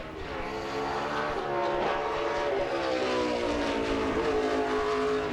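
A NASCAR Nextel Cup race car on a single qualifying lap at the Toyota/Save Mart 350 in 2007: a loud, sustained engine roar rising and shifting in pitch as it passes, steady and close with no talk.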